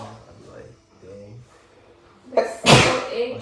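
A single loud, sharp human sneeze bursts out near the end, after a stretch of quiet conversational talk.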